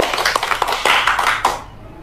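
An audience claps hands in a short burst of scattered claps and taps lasting under two seconds, then quickly dies away.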